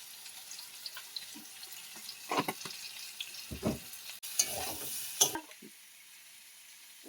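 Vegetables fry in a pan with turmeric powder and salt, giving a quiet, intermittent sizzle broken by stirring scrapes and a few louder bursts, with a brief splash of water near the middle.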